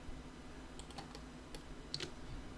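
Sparse keyboard and mouse clicks from someone drafting in CAD software, a handful of light taps scattered over a few seconds against a faint steady room hum, close and quiet, with no talking.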